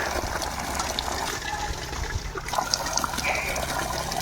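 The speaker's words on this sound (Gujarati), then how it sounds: "તમે જોઈ શકો છો કેવી રીતે પાણી આવે છે અહીં નર્મદામાં." Water gushing and churning in the Narmada canal in Surat, a steady broadband rush with splashing detail, continuous and fairly close throughout.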